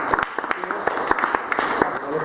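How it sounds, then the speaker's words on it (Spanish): Scattered clapping from a small group, brisk and uneven, with voices murmuring underneath. "Sí, también lo podemos aplaudir"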